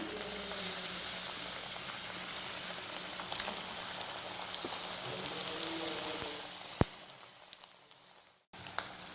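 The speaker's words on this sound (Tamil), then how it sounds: "இனி ஒவ்வொன்றா நம்ம ஃப்ரை பண்ணி எடுத்துடலாம்" Chicken samosas frying in hot coconut oil give a steady, close crackling sizzle with scattered pops, fading somewhat near the end with a brief dropout, no talking.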